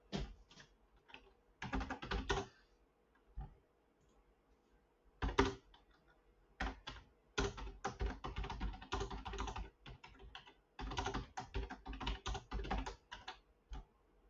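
Quick bursts of typing on a computer keyboard come as clustered runs of light clicks separated by short pauses, close and fairly quiet, with no voices.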